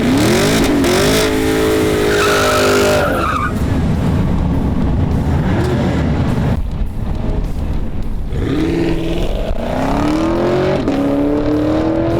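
A 2017 Mustang or Camaro launches down a quarter-mile drag strip, its engine roaring loud and close as it revs up through several gear changes, each shift dropping the pitch before it climbs again.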